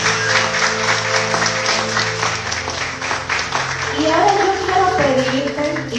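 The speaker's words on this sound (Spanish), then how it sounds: "Denle un aplauso a Dios." Congregation applauding at a Sunday church service, a steady wash of clapping held throughout at fairly close range, with sustained organ or keyboard tones and a brief voice underneath.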